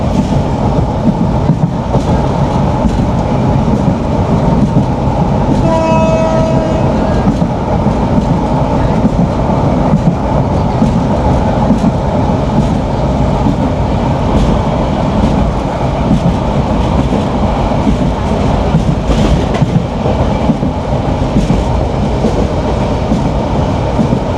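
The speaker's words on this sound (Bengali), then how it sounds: "এই যে আমাদের ট্রেন কক্সবাজার থেকে সারি আসার পরে দুর্দান্ত গতিতে ছুটে চলছে" Probal Express passenger train in Bangladesh running at speed on the route from Cox's Bazar toward Chattogram, a loud continuous rumble and rattle of wheels and carriages heard from inside, with a brief squeal partway through.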